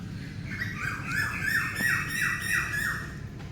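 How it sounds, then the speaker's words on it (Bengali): An Asian koel repeats a rising, shrill call in a fast rhythmic series of about six notes over low background hum at a meditation centre in Kolkata, no talking. "কোকিলের আওয়াজ"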